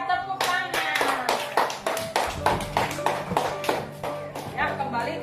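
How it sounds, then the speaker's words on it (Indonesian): Children in a classroom clap their hands in a quick, steady burst of many sharp claps, close and loud, with a teacher's voice speaking over them. "Iya, tepuk tangan."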